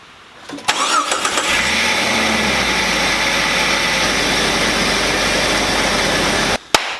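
A Jeep XJ engine cranks with a few starter whirs, catches, and settles into a steady mid-pitched idle, close and loud, cutting off sharply near the end.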